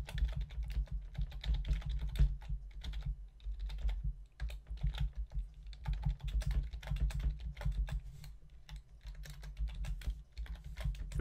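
Rapid, steady clicking of a computer keyboard as credit card details are typed in, close and fairly quiet with short pauses between bursts of keystrokes.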